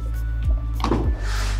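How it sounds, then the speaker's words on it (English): A driver's side sliding door on a VW Transporter van rolls open with a couple of close, low thunks and a sliding rumble, heard alone over a steady engine idle hum. "this, which is a driver's side sliding door"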